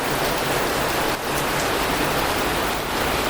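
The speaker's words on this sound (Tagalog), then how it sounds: "Lakas na ulan." Heavy rain pours down in a dense, continuous roar, close and loud with no voices over it.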